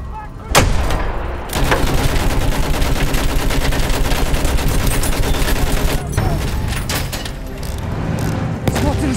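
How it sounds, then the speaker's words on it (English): Sustained machine gun fire rattles loudly and continuously in Battlefield 1, punctuated by heavy booms and distant artillery, with occasional shouted callouts in the battle din. "I'm looking at a machine gun."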